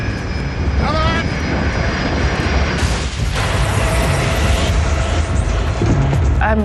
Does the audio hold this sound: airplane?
yes